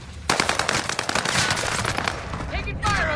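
Rapid automatic gunfire in Call of Duty Warzone on Rebirth Island, dense bursts of loud shots in quick succession, with a game voice speaking near the end.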